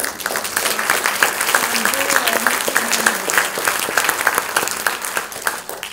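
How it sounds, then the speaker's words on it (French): An audience at a regional conference applauds, dense steady clapping filling the room throughout, with a voice briefly talking over it. "je vous propose de les applaudir"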